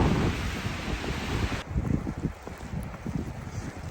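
Cold wind blowing outdoors in a snowy neighbourhood, loud gusting buffets on the microphone that drop suddenly to a softer, uneven rush.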